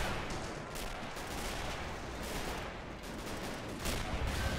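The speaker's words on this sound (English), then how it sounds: "That MG42 is definitely not giving the American attackers a break anytime soon." Continuous MG42 machine gun fire and other gunfire in the video game Men of War Assault Squad 2, a dense, steady battle din with sharp repeated bursts, with no voices.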